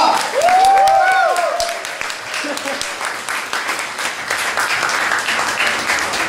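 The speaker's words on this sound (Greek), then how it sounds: "Πάρα πολύ δυνατό χειροκρότημα για τον Νίκο Λουκά!" A crowd applauds and whistles loudly for comedian Nikos Loukas at an open mic night. Sharp whistles ring out early over dense, steady clapping that carries on throughout.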